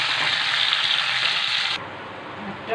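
Potatoes frying in a pan with salt, bay leaf and chili, a loud close hiss of hot oil that drops off abruptly partway through to a quieter background.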